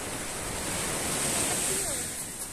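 Surf washes onto the shore at Pantai Tiga Warna beach in Malang, a steady, loud roar of breaking waves with constant wind-like hiss and no voices.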